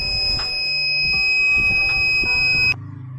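An alarm in an oil quality sensor simulation sounds off as two steady high electronic tones, held for nearly three seconds over faint background noise, then cut off abruptly.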